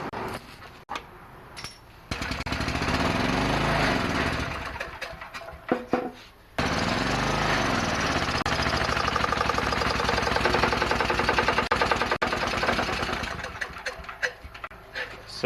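A vintage Honda generator engine runs without its fuel tank, drawing on fuel left in the carburetor, a steady close mechanical drone that starts, cuts out briefly near the middle, then resumes and fades toward the end.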